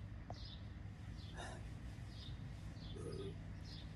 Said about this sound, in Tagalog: Uy, may ibon sa taas ah.